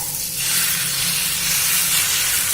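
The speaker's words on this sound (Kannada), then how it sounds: "ಈಗ ನಾನು ಮಿಕ್ಸ್ ಮಾಡ್ಕೊಂಡಿರೋ ಎಗ್ ನ ಹಾಕೊಳ್ತಿದ್ದೀನಿ." Beaten egg pours onto a hot oiled pan, sending up a loud, steady hiss and sizzle from half a second onward that continues unbroken to the end.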